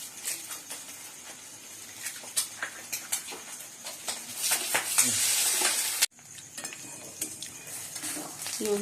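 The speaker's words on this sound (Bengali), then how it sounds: "দুটো ডিম একসঙ্গে দিয়ে ভেজে নিচ্ছি।" Two eggs frying together in oil in a kadai, a steady close sizzle with scattered clinks and scraping of utensils against the pan, swelling louder before cutting off abruptly and resuming.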